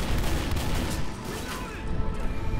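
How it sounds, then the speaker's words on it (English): Dense, nonstop gunfire fills Left 4 Dead's Heaven Can Wait finale: loud, overlapping shots and bursts with a constant roar and no pause across the stretch. "The gun firing!"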